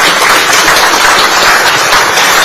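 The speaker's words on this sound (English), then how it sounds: "with a resounding and a deafening round of applause, please" A large audience gives loud, sustained, dense applause for two African leaders at a formal state event in Ghana, continuous clapping with no voices above it.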